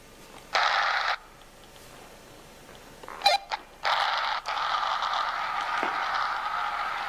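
A creaky door swinging open in a spooky video game, a drawn-out creak with a short burst near the start, then brief clicks and a longer sustained groan as the door moves, heard up close and alone.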